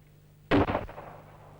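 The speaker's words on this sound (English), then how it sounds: "A 9mm. Browning high power, British service issue 9mm Parabellum. A high velocity gun." A single sharp, loud gunshot from a 9mm Browning High Power pistol, British service issue firing 9mm Parabellum, with a short, quick echo tail fading into a quiet background.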